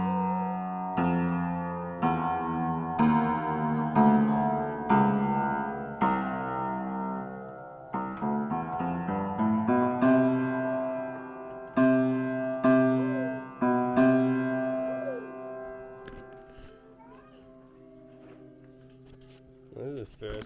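Notes on a freshly tuned piano struck one after another in a steady, deliberate sequence, each ringing out clearly with sustained harmonics before the next, fading to a quiet tail near the end.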